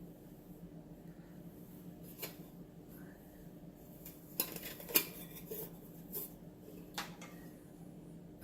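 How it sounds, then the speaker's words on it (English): A Toaks 450ml metal cup is set onto a Toaks stainless steel alcohol stove, giving a few faint, close metallic clinks and taps against a quiet background. "450ml cup here. That sits on there just nice."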